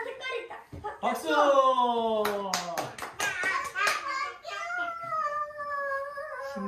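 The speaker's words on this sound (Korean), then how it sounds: "박수" Several loud hand claps burst out in a quick cluster amid excited voices, including a child's, with talk and vocal sounds continuing around the clapping.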